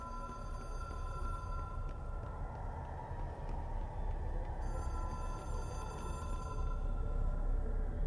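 A telephone rings in the video game Control, a steady electronic bell tone that repeats in bursts over a continuous low rumbling ambience, fairly loud and with no talk.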